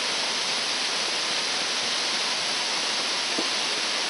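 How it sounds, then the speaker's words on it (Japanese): Kido waterfall at Akame 48 Waterfalls in Japan gives a steady, close rushing roar of falling water, unbroken for the whole stretch, with no voices. "こちらが木道滝です"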